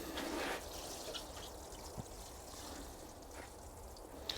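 Water sprinkles softly onto freshly sown onion seeds in compost. It is a faint, steady hissing trickle with a few brief splashes, heard close and alone.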